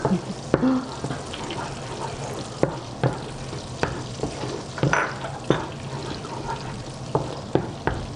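Butter melts in a pan over medium heat, giving a busy bubbling sizzle under repeated sharp clicks and taps of a utensil against the pan, close and fairly loud with no one speaking.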